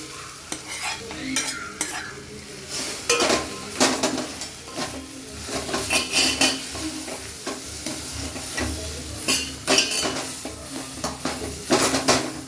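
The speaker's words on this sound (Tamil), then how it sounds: "அது எல்லாத்தையும் மிக்ஸ் பண்ண போகிறோம்." Mashed pidikaranai (elephant yam) stirred in hot oil in a pan, repeated scraping and spoon-on-pan clatter over a low sizzle, irregular strokes continuing throughout at close range.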